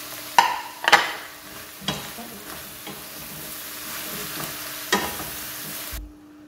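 Chopped carrot, pepper, parsley and other vegetables fry in a pan as the base for a shrimp bisque: a steady moderate sizzle broken by several sharp spoon knocks and scrapes, ending abruptly in silence.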